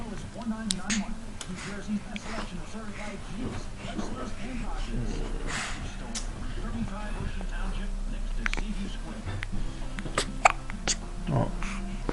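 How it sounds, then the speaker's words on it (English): Repeated hiccups from a man, short sharp bursts scattered across the stretch amid background chatter and room noise, with someone talking nearby. "you got the hiccups"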